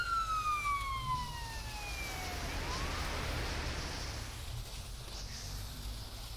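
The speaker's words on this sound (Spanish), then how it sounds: "Vale, viene la ambulancia." In a police simulator video game, a wailing ambulance siren sweeps past amid steady traffic rumble, loud at first, then blending into the road noise as it moves off.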